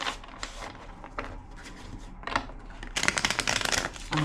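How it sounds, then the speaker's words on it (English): Tarot cards are shuffled in quick papery bursts, riffling in short uneven rounds with a denser, louder flurry of shuffling at the end. "Two more shuffles."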